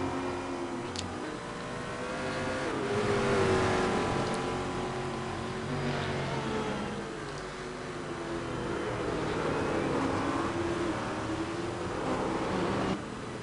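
Race cars from a Prototype/GT Challenge at Brands Hatch in the iRacing sim pass by, with engine tones climbing and falling through two swells of revving and a steady roar between them. No one talks.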